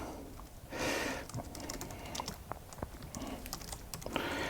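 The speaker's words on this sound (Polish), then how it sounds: "wykorzystać moją klawiaturę do pisania tekstów?" Rapid typing on an iPad Pro 2020 keyboard with clustered key clicks, close up, mixed with a few soft rustling swells in the background.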